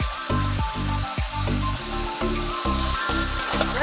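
Chicken sizzles loudly in a pan with cumin and black pepper paste, a steady frying hiss broken by a few stirring scrapes and a couple of sharp clinks near the end.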